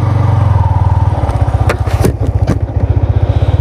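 A 2023 Yamaha MT15 V2 motorcycle runs close by, its exhaust giving a loud, steady, throbbing idle with a few sharp revs partway through, and no voices over it.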